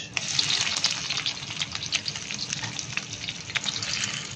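Dried chilies, chopped garlic and onion sizzle steadily in hot oil for dal bhuna, a continuous close crackling hiss with scattered pops.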